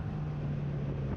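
Kawasaki Z900 motorcycle ridden on a race track, with a steady engine drone and heavy wind rush over the microphone throughout, continuous and close.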